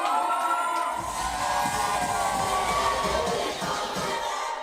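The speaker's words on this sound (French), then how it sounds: "Et alors qu'on applaudit bien fort s'il vous plaît" A nightclub audience cheers and shouts in a dense, continuous roar, with high whoops and yells above it, that starts abruptly and holds steady before cutting off.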